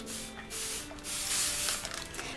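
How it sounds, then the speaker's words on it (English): Best Press spray starch spritzes onto flat fabric scraps in a few quick, soft, close hissing squirts. "And then spritz it with Best Press."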